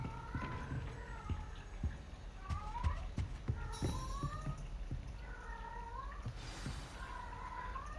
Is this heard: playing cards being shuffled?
no